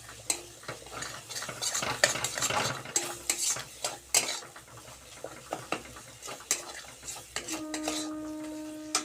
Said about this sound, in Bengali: এবার আমি আমার দুধ দিয়ে দেবো